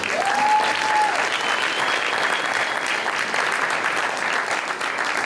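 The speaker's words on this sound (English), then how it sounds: "please join me in one last warm round of applause for all of these interns' hard work and diligence" Sustained applause from a dinner audience at a community progress dinner for a group of interns, steady and dense throughout, with a brief whistle-like tone near the start.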